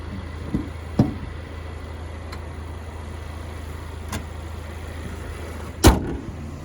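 Car door on a 2019 GMC Terrain Denali, all-wheel drive, heard as a few sharp thuds: a soft knock near the start and a firm slam near the end, over a steady low idle hum.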